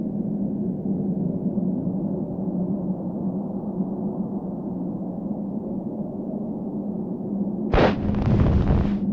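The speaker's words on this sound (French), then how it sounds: "quelle explosion" In the video game Secret Files: Tunguska, a steady low rumble drones on for several seconds, then a sudden loud explosion bursts in near the end and crackles on.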